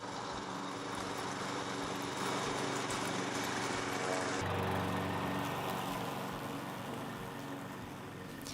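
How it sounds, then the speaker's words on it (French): A Green PM53 lawn mower runs steadily while cutting tall roadside grass over 50 cm high, its engine drone continuous and fairly loud with a slight shift in tone midway through. "Vu la hauteur de l'herbe, la tonte est vraiment difficile, mais Green fait aisément face à cette situation."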